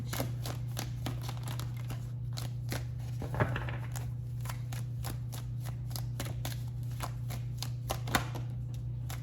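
Tarot cards being shuffled by hand in a quiet room, a steady run of soft, closely spaced riffling flicks over a constant low hum, with a couple of slightly louder snaps.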